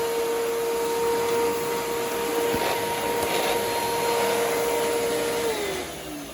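Hoover Commercial Task Vac bagless vacuum running with its hose in use, a loud steady whining drone with a constant motor tone that dips slightly near the end.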